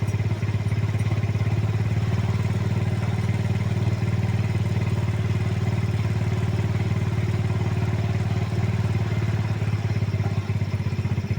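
A motorcycle engine idles steadily and close by while its idle speed is set, a constant low chugging drone with no revving and no voices.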